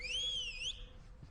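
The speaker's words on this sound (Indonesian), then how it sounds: "kebetulan peluit berbunyi" A whistle blown in an action film scene gives a single short, wavering blast that fades into quiet room tone.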